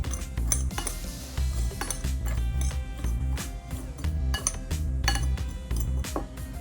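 Spices and a garlic herb blend are stirred in a bowl, making repeated clinks and scraping rattles of a utensil against the dish, close and fairly loud, over a low background hum.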